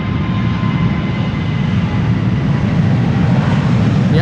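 A Transavia airliner at Amsterdam Schiphol on a sunny day produces a steady, loud broadband engine roar that holds evenly throughout, heard from a distance with no voices.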